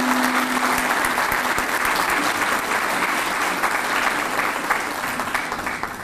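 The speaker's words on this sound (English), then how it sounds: "let's please offer a round of applause for these remarkable young men and women" Sustained applause from a ceremony audience honoring a group of young students, dense and steady clapping filling the room for the full stretch with no speech over it, tapering slightly at the end.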